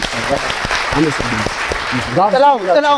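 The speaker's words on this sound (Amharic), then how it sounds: "አንድ ጊዜ ሞቅ ያለ ጭብጨባ" Warm audience applause in a television studio, a dense burst of clapping that runs for a couple of seconds before a voice breaks in over the tail of it.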